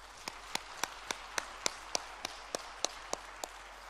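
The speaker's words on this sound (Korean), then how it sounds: "우리 모두 다 같이 하나님께 영광의 박수를 올려드리겠습니다" A church congregation claps together in a steady, even rhythm during a worship service, about a dozen crisp beats in quick succession, heard from a moderate distance.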